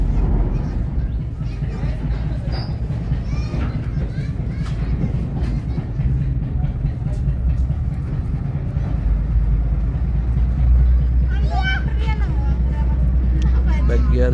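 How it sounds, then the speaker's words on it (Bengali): A large passenger launch on the Dhaka to Haturia river route pulls away from a ghat. Its engine makes a steady low drone with a constant hum, and crowd chatter and scattered voices sound throughout. "এখন লঞ্চটি পরবর্তী গন্তব্যের উদ্দেশ্যে ছেড়ে যাচ্ছে।"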